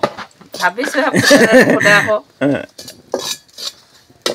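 Dried peas tumble into a hot pan to roast, giving a dense, loud rattling clatter of small hard seeds on metal that later thins to scattered taps and clicks, with a voice talking over parts of it.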